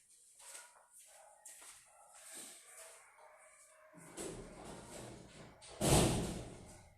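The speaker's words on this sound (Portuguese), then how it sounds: "Fechei a porta aqui de casa" A house door is shut with a loud thud late in the clip, after quieter rustling and a few distant dog barks.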